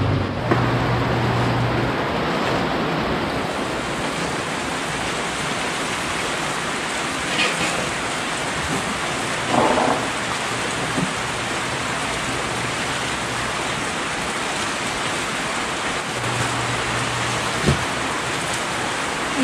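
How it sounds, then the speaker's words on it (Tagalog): Steady, heavy rain hisses and drums continuously in rural Occidental Mindoro, Philippines, with a low hum underneath and occasional faint knocks. "Ayan, ang lakas-lakas na naman ng ulan."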